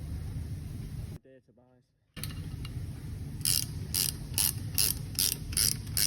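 A ratchet clicks in quick, rhythmic bursts while winding a plastic rear axle bush into a 2008-2013 Ford Fiesta MK7. The clicks are close and sharp over workshop background, after a brief moment of speech.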